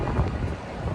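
Wind buffeting a microphone outdoors on a New York street, a steady broadband rumble with gusty low-end thumps throughout, loud and close, with no talking.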